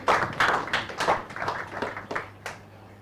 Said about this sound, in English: Round of applause for Peter.